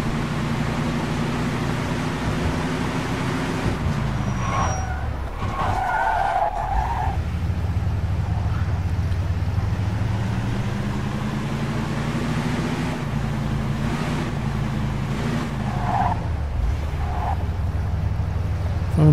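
A damaged car drives in the video game Mafia II. An engine drone rises and falls between gear changes, broken up by a few short tire skids and squeals, with no talk.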